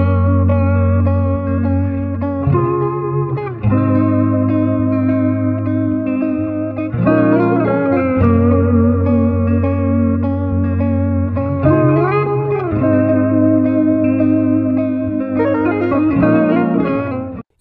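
A sustained, effects-heavy guitar sample loop pitched down two semitones for a dark, lowered tone, strumming chord changes every couple of seconds, loud and continuous with no voices.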